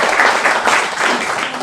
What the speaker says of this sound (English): Let's welcome our speakers with a big round of applause.